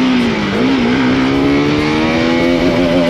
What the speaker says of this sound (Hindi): फर्स्ट गियर में डालते हैं बाइक को।